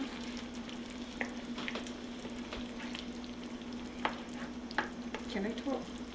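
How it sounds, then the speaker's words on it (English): Onions and tomatoes sauté with curry in a pan for a fish dish alongside cou cou, a steady low sizzle with scattered spatula scrapes and clicks and a faint hum underneath. "The reason we saute the onions and tomatoes and stuff first is because fish cook very quick"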